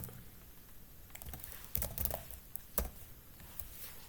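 HTML code is typed on a computer keyboard as a quiet, close run of irregular key clicks and taps, with a few firmer strokes in the middle and no voice.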